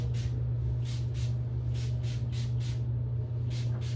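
A spray bottle mists liquid onto locs in a quick series of short, soft hissing spritzes, about ten bursts in a steady rhythm over a constant low hum.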